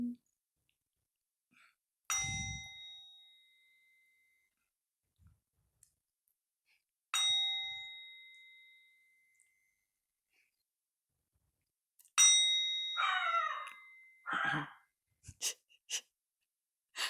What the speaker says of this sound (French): Déjà, 3 petits coups de bol tibétain.